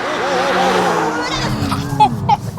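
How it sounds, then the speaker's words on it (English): McLaren P1 hypercar drifting sideways at full throttle, a loud sustained engine roar with rising revs and tyre noise, while people talk and shout excitedly over it. "Oh, he's going proper sideways."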